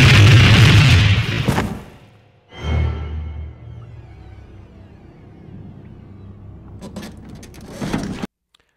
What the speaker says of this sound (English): then we added in the explosion in post